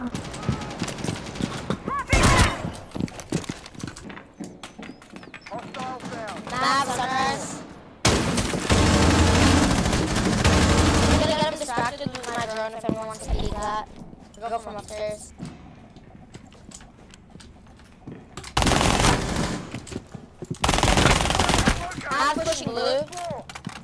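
Bursts of gunfire from Rainbow Six Siege come in clustered volleys between quieter stretches, loud and close, with players talking over much of the action.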